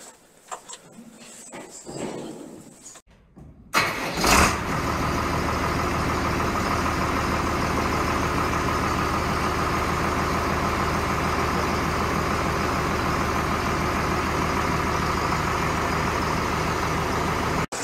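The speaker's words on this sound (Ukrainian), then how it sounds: "Запускаємо двигун, але перед цим зараз прокачаємо фільтр." A YTO NLX 1404 tractor diesel engine cranks, fires with a loud burst, then holds a steady, dense, rumbling idle nearby for over ten seconds, with no talk over it.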